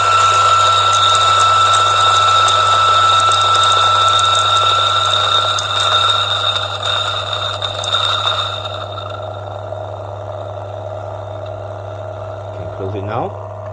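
A DF64 coffee grinder grinds beans with a steady, loud motor whine and a constant low hum for about nine seconds, then winds down to a quieter drone with a brief rattle near the end.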